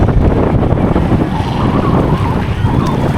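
A motor fishing boat passes on the open sea at Dhanushkodi, its engine a low steady rumble buried under constant heavy wind buffeting and broadband wave wash, with no voices.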